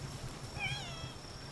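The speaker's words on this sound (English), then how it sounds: "I heard a meow." A single short cat meow from the video game Palworld, with a rising and falling pitch over steady background noise.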